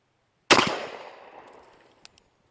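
A single loud blast from a Hawthorn Viking shotgun with a 28-inch full choke barrel, fired at a target outdoors, a sharp crack decaying over about a second, then two faint distant ticks.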